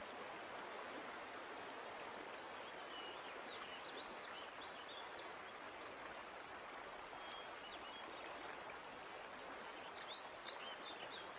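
A river stream flows steadily, a constant broadband rush of water holding level throughout, with faint bird chirps scattered over the top and no talking.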